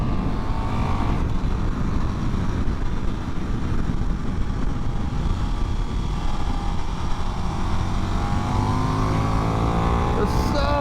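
A KTM 1390 Super Duke R motorcycle at speed on a race track, its engine roaring steadily and loudly throughout, with wind rush and pitch rising toward the end as the rider accelerates.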